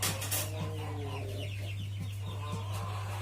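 Pelung chickens from Cianjur kept in a backyard pen cluck softly and repeatedly, a faint low-pitched stream of short calls over a steady low hum.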